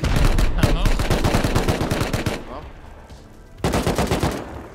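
Rapid automatic gunfire from the survival game Rust during a base raid defense, loud dense bursts of shots, a short pause, then another burst resuming.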